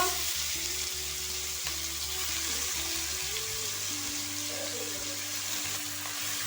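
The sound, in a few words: boiled pumpkin greens and stalks frying in hot oil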